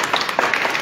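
Short burst of clapping inside the rock-cut Bhaje caves near Pune, a few hands ringing in the hall's echo, fairly near and dense for under a second.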